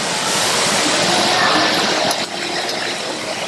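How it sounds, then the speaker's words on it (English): Beef sizzles on a Korean barbecue grill at an all-you-can-eat buffet, a dense, loud, steady hiss of frying meat with scattered pops, close up and without talk. "That sizzle and pop."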